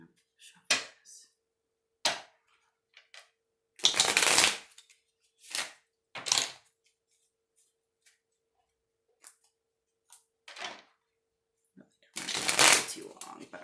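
Tarot cards are riffled and shuffled in repeated bursts, some long and some short clicks, close up with quiet gaps between them.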